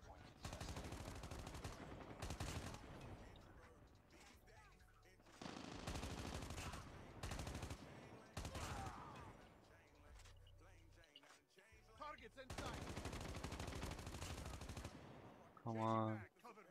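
AK117 rifle fire in the Call of Duty Mobile video game comes in several rapid automatic bursts separated by pauses, loud against quieter game sounds, with a voice in places.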